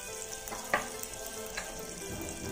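Cumin seeds crackling in hot oil in a pan, a steady close sizzle with a couple of sharp pops.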